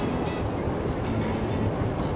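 Ocean waves at a private beach in Hawaii wash in as a broad, continuous roar of surf, with wind buffeting the microphone and faint higher splashes scattered through.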